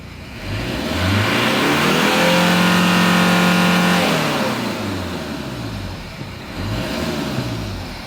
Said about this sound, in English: Let's try to accelerate. See the RPMs.